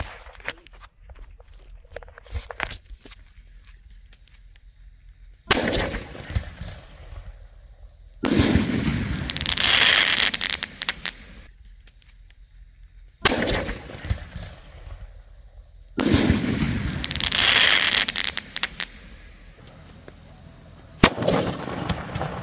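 A Diwali sky shot firework is lit and fires into the sky, giving a loud series of booming bursts, each trailed by crackling hiss, with quieter gaps between shots.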